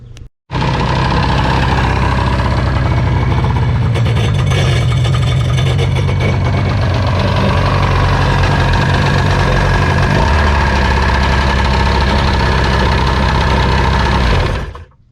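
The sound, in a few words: old jet ski engine running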